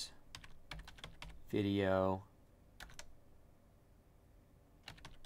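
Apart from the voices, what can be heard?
typing a file name on a computer keyboard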